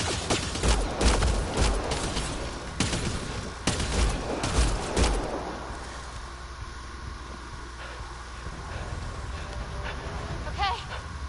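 Gunfire in Mass Effect: Andromeda, dense rapid bursts of shots over the first half, loud and close, then tapering into a quieter ambient hum, with voices shouting during the fight.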